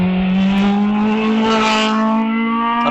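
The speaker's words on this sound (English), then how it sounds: "That little tiny little 4-cylinder imp engine" A hill climb race car at Prescott, powered by a small 4-cylinder Coventry Climax Imp engine, holds a loud, sustained high-revving engine note that rises slightly in pitch as it passes close by.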